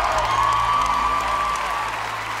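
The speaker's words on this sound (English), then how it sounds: "A big round of applause for Amelie." Audience applause and cheering at a televised talent show after a magic act, a dense continuous roar of clapping with a faint whoop, steady and loud across the brief moment.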